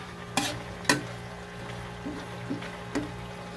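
A spoon scrapes and knocks a few times against the pot while squash and dried fish simmer in coconut milk with a soft, steady bubbling underneath.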